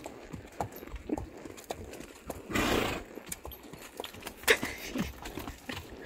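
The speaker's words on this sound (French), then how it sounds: "On entend les sabots." Horse hooves clip-clop on a hard forest path in a steady walking rhythm, close and fairly soft, with a brief rustling burst partway through.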